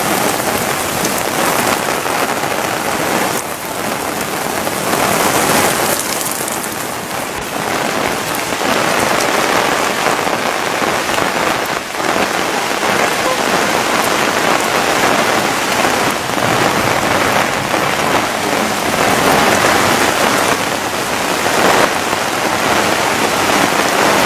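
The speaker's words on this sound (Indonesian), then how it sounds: "Luar biasa anginnya. Anginnya sangat kencang." Heavy rain pours steadily with strong gusting wind for over twenty seconds, a loud, dense roar of drops and rushing air with occasional louder swells and no talk over it.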